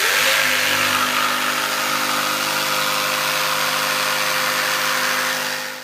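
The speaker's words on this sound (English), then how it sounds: "So I'm just going to use my jigsaw and cut this out." A jigsaw cuts through a wooden stair skirt board, a steady buzzing motor drone with a rapid reciprocating rasp, loud and close, running continuously without pause before tapering at the end.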